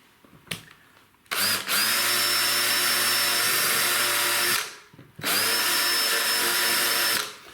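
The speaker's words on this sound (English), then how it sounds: "I'm going to use this countersink bit to make a groove for the screw head to go in" A power drill with a countersink bit cutting a groove for a screw head along a skirting board, running in two loud sustained bursts of steady whining about three seconds each, separated by a short pause, with no talk.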